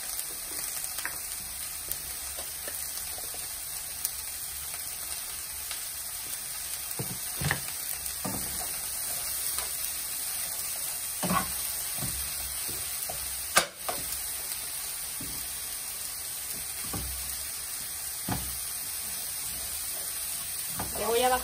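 Chicken with rice and vegetables cooking in a pan, a quiet steady sizzle with occasional clinks and stirring sounds and a sharp knock midway, under soft speech.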